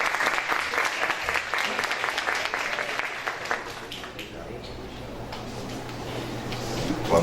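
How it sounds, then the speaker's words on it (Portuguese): Sustained applause from an audience at the opening session of a medical students' congress in Mato Grosso, a dense steady wash of clapping that holds for several seconds and softens slightly midway before swelling again. "Uma salva de palmas."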